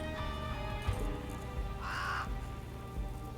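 A pet raven caws in the video game Adam Wolfe, giving a couple of harsh raspy calls close by, the loudest near the middle, over a low background murmur.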